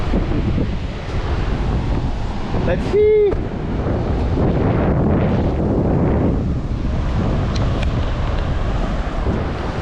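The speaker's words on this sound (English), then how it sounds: "It is awesome here in the Pacific Ocean." Strong wind buffets the microphone on a Pacific Ocean shore, with surf rumbling steadily underneath throughout; a voice briefly speaks.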